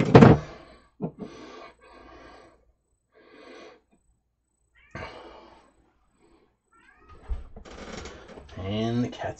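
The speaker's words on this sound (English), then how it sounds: "And the cat's going nuts." A cat meowing insistently in a workshop, loud yowls scattered among pauses and soft thumps, rising into longer, wavering cries near the end.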